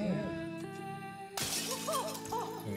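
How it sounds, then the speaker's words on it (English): A wine glass smashed by bare hands in a thriller scene: a sudden sharp shatter cuts through a tense musical drone partway in, followed by scattered tinkling fragments and music. "You smashed a wine glass with your bare hands, you monster."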